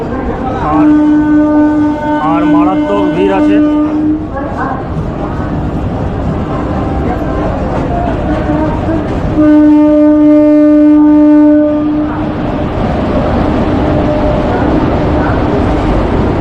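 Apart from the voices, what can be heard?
train arriving at Patna Junction platform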